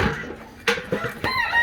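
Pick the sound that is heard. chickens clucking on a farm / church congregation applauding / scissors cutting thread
chickens clucking on a farm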